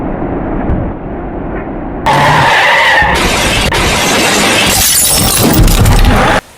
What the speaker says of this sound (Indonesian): bus nabrak wuling RF dan bus mini akibat jalanan licin saat hujan deras